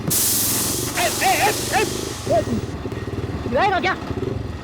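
Motorbike engine running steadily on a ride, a continuous loud rumble with hiss while people talk over it in short exchanges.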